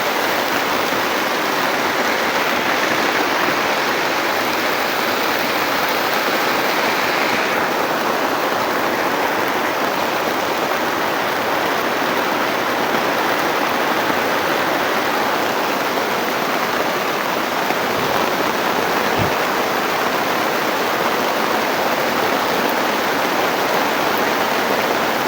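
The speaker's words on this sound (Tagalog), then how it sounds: "Napakalakas sa ulan tol." Very heavy rain pours down in a dense, unbroken roar that stays loud and steady throughout, with no talking over it.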